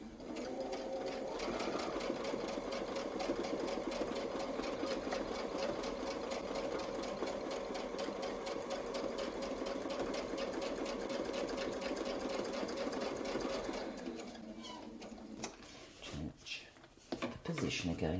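A quilting sewing machine runs steadily at close range, stitching a circular line of feathered-leaf motifs on a quilt, a continuous rapid needle rattle lasting about fourteen seconds before slowing and stopping with a few handling clicks.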